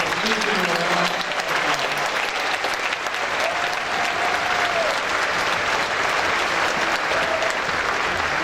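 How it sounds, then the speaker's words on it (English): A large audience at a college convocation ceremony claps for graduates in sustained, dense applause that stays loud and even throughout. "please give them a round of applause"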